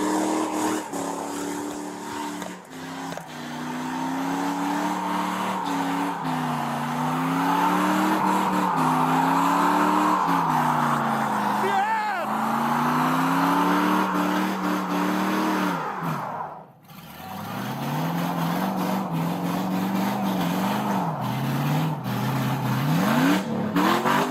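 A stolen car accelerates hard during a police standoff in Phoenix, its engine revving up and down in rising and falling sweeps while the tires squeal, loud and close, with a brief dip midway before the revving resumes.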